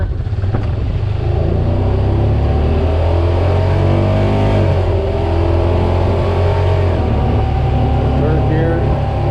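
A Honda Pioneer 700 UTV engine accelerating in first gear, a loud, steady droning motor whose pitch climbs gradually over the whole stretch with constant road rumble.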